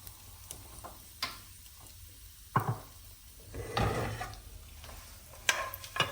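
Raisins fry in a pan for a sweet dish, with soft, intermittent sizzling and the scrape of a spoon stirring them, plus a few sharp knocks against the pan, close and fairly quiet with no talking.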